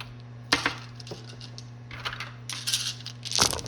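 Dice rolled for aircraft attacks in a naval battle of a Global War 1939 board wargame: several sharp, close clattering bursts as the dice tumble and settle on the table, over a low steady hum.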